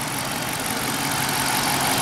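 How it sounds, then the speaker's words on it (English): A 2014 Dodge Charger PPV police car with a 5.7 HEMI V8 and AWD idles steadily, a smooth, even engine hum heard up close and alone. "There are no noises coming from the engine, no ticks, no clunks, no nothing."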